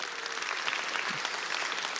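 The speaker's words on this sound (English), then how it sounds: "Just give him a round of applause" Sustained applause from a chapel audience at a university community service, steady and dense throughout, with no talk over it.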